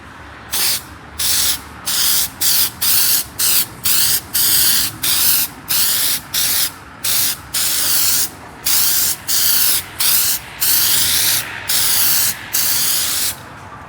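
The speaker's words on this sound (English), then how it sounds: "So that's now the 2 coats of this spray." Aerosol spray coating goes onto a car headlight in repeated short bursts of loud, close hissing, about twenty even pulses separated by brief pauses, with no voices.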